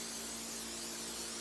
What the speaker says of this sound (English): I'm going to spray it very lightly, just because